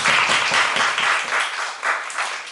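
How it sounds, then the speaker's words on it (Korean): A church congregation applauding in a burst of clapping that swells and eases over a couple of seconds, fairly loud and close, with no voices over it. "박수 한번 쳐줘"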